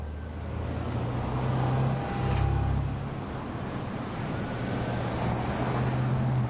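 Road traffic from cars evacuating Pacific Palisades during a fire, a dense continuous rumble of engines and tires with a vehicle swelling louder as it passes midway, no voices.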